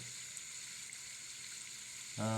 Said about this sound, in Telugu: చేప కాలుతుంది.